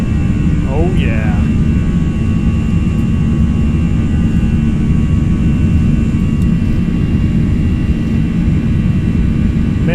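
Airbus A321 with CFM-56 jet engines at takeoff thrust on a snowy Salt Lake City runway in a flight simulator, a loud steady broadband roar holding throughout with a faint brief whine early on.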